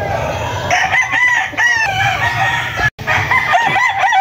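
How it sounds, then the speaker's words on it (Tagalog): A flock of farm chickens clucks throughout while a rooster crows loudly and close by, several cries overlapping and a brief cutoff near the middle. "Yan po yung mga manok nila dito mga kalaki."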